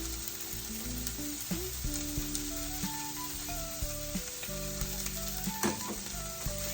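Onions and peppers frying in garlic-infused olive oil in a pan, a steady close sizzle with occasional stirring pops and faint tonal sounds underneath.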